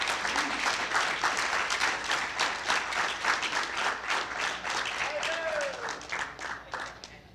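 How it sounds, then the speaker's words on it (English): An audience at a gridiron lifetime achievement award ceremony applauds as the mayor of Vineland is called up, a sustained dense round of clapping with a brief whoop or cheer mid-way, close and loud. "Please clap it up."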